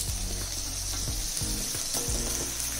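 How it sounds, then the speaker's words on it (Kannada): Capsicum fries in hot oil in a pan while vangibath is cooked, giving a steady, close sizzle with occasional crackles and stirring scrapes, and no one speaks. "ಒಂದ್ ನಿಮಿಷ ಚೆನ್ನಾಗಿ ಹುರ್ಕೊಂಡಿದ್ದೀನಿ ಎಣ್ಣೆಯಲ್ಲಿ. ಇವಾಗ ದೊಣ್ಣೆ ಮೆಣಸಿನ್ಕಾಯಿ ಹಾಕೋಬೇಕು"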